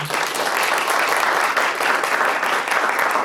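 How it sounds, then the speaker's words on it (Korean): A crowd at a Korean political party district meeting ahead of local elections claps in a dense, even burst of applause that holds steady throughout. "여기 앞에 계신 분들께 다시 한번 큰 박수 좀 부탁드리겠습니다."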